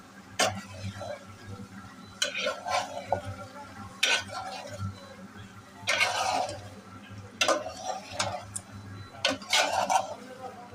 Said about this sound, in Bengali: এখন আমি আবার কুচুন দিয়ে আবার ভালো করে এপাশে ওপাশে একদম একটু ভালো করে নাড়বো